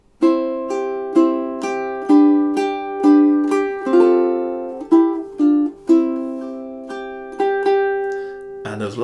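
Ukulele picking measures 3 and 4 of a song, a series of clear plucked notes and strummed chords in a steady rhythm, close and alone.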